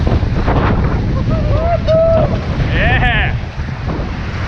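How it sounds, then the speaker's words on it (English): Strong wind buffets the microphone while rafting on the Colorado River, a continuous loud rushing roar with water noise underneath. A voice speaks briefly and a few faint whistles or calls cut through. "that wind is refreshing, I'll tell you."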